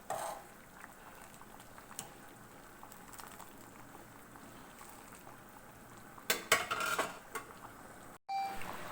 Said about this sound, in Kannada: ಒಂದು ಐದು ನಿಮಿಷ ಚೆನ್ನಾಗಿ ಕುದಿಸ್ಕೊಳ್ಳೋಣ